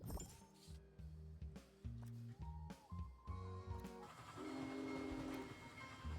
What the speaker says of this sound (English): and there's the train